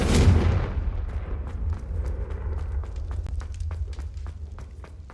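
A Confringo spell explosion in the video game Hogwarts Legacy opens with a loud, deep boom that rumbles and fades over several seconds, followed by faint rapid ticking.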